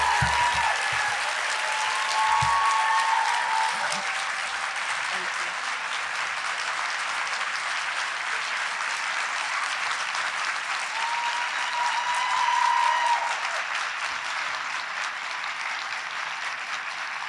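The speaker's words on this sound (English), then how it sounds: "another round of applause for our keynote speaker, Noni Rose" A large audience at a scholarship awards celebration applauds in a steady, dense wash of clapping that fills the hall for the whole stretch, swelling slightly near the end.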